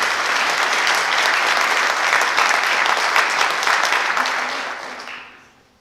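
An audience at a high school honors convocation gives a steady round of applause for a student, dense clapping held for several seconds before fading out at the end.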